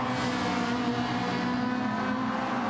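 McLaren race car in a racing video game at Spa, its engine holding a steady, continuous drone at constant volume throughout.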